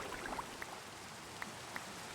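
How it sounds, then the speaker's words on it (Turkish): Rain in the Minecraft survival world falls as a faint, steady hiss, with a few soft, scattered drop ticks on top. "Oh yağmur başladı tamam."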